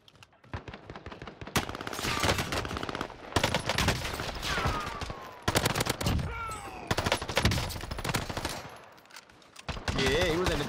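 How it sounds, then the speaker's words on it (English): MP40 submachine gun in Call of Duty Warzone firing in several loud, rapid automatic bursts with short pauses, up close, along with other game sounds and some brief voice. "he wasn't expecting me to shoot back"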